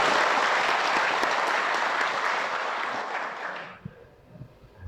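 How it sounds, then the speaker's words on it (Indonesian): Audience applause at an Islamic religious lecture: sustained, dense clapping from a crowd that fades out toward the end, leaving a few scattered faint sounds. "Kenapa jadi tepuk tangan begitu?"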